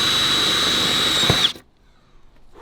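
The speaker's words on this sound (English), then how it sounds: "Got to drill into the quarter." A power drill runs steadily with a high whine into the rear quarter panel of an RX-7 during a widebody kit install, then cuts off abruptly, leaving near silence.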